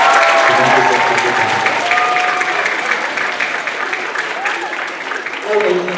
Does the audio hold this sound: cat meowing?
no